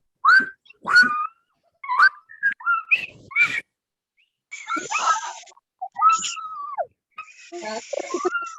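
A person whistles in short chirping phrases that imitate a bird during a children's storytime. The whistles come in separate bursts with pauses between them and are interspersed with brief speech.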